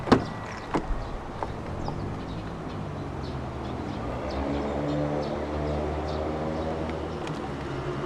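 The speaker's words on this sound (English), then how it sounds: "Long press the ribbed area to fold the side mirrors in." A low electric motor hums steadily for several seconds after a couple of clicks as the side mirrors of a 2017 BMW 118i M Sport fold in.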